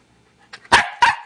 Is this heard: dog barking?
yes